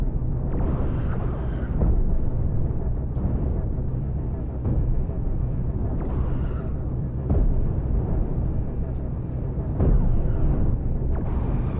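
A space station blows apart in the Star Trek Cosmoteer space game: loud, deep rumbling blasts roll in repeated waves over several seconds, with game noise filling the background.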